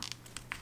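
Paper being folded and creased by hand for a pumpkin surprise fold, a few soft, faint crinkles and taps in quick succession, close to the microphone with no voice.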